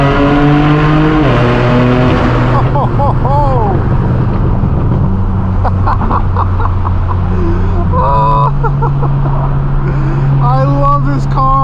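A straight-piped BMW M4 F82 on the road lets out loud raw exhaust revs, with rising and falling engine notes, blips and crackles between shifts throughout.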